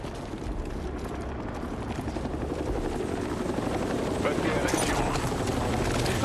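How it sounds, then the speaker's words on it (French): Helicopter in the video game Battlefield 6, a loud steady rotor roar filling the scene throughout, with gunfire-like crackle mixed in and a voice speaking over it. "Il y a un hélicoptère là."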